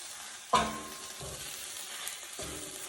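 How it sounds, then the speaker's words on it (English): Caramelizing onions with sweet peppers sizzle steadily in a hot pan, broken by three distinct scrapes of a utensil across the bottom, the first one loudest and close. "And you can scrape off the bits of the delicious onion off the bottom of the can so it doesn't stick."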